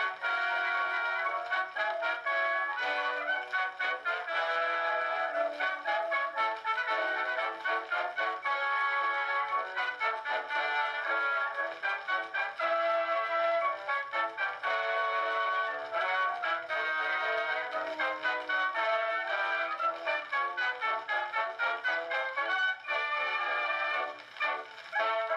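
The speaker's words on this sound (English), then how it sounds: "the sound you're hearing is what this wax cylinder actually sounds like" A wax cylinder phonograph plays a song, a thin, narrow-band melody with steady surface crackle, moderately quiet and continuous throughout with no talking.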